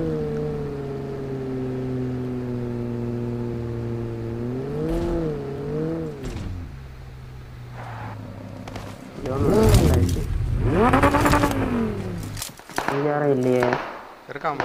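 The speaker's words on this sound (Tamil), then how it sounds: "பின்னாடி வண்டி" A vehicle engine in the battle royale game BGMI hums steadily, then swells and revs in rising and falling surges as it closes in from behind, with voices talking over it.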